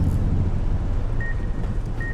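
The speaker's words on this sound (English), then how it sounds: "It starts beeping as soon as you get somewhere." A device in Fallout New Vegas: Dead Money gives two short high electronic beeps, one near the middle and one at the end, over a low ambient rumble.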